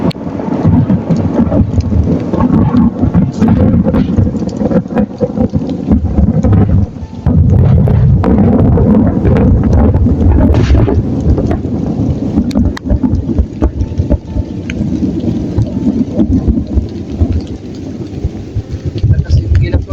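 Heavy rain pours down steadily through a thunderstorm, with thunder rumbling low beneath the dense, constant downpour and no break in the roar.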